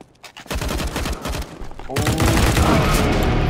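Rapid bursts of gunfire in CS:GO during a competitive match, with sharp shots crackling through the first two seconds and then merging into a loud, dense volley. Players' voices can be heard faintly underneath.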